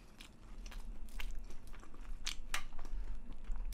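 Bread eaten with gambas is chewed close to the microphone, producing a run of soft, moist bites and crunchy chewing sounds with no talking.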